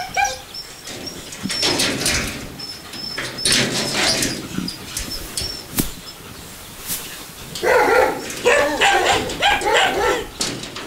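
Dogs at a kennel bark on and off, a big German Shepherd among other breeds, with scattered sharp barks and a louder burst of several dogs near the end, fairly close.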